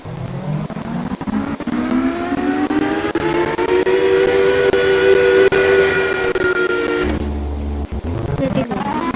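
A steady video-game car engine drone, shifted to neutral, climbs slowly in pitch and holds, then cuts out abruptly near the end, with scattered clicks throughout; no voices.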